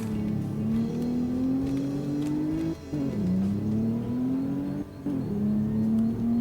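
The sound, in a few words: tuned Alfa Romeo Giulia launching and accelerating on highway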